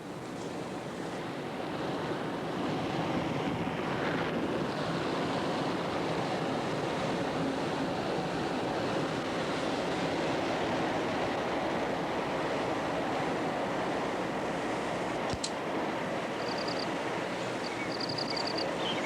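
A broad, constant roar of rushing, cascading water from the 60-foot Awash Falls in Ethiopia fills the whole stretch, loud and unbroken, with no voices.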